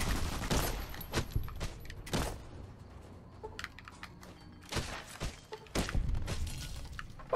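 Gunfire in the Fallout: New Vegas video game, several sharp bursts of shots spread across the stretch, loud and close, with quieter clatter and game noise between volleys.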